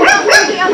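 A pet dog yips and barks twice in quick succession, close and fairly loud, outdoors near a bamboo thicket after a cobra has been caught.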